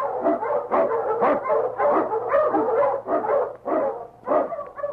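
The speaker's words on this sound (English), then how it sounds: "Wonder Dog King, swiftest and strongest of Eskimo lead dogs, blazes the trail through storm and snow" An Eskimo sled dog in a radio drama barks in quick, loud, close bursts, roughly a dozen woofs and yips running in an uneven rapid rhythm.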